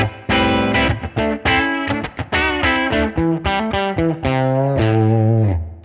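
Electric guitar on the bridge pickup through a cranked Fender-style amp, playing a bright, overdriven melodic lick of sustained notes and quick runs, loud and alone.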